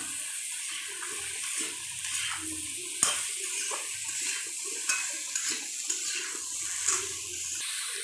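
Potato, eggplant and pumpkin pieces cooking in a pan on a gas stove, a soft steady sizzle with intermittent scraping and stirring clatters, fairly quiet and close.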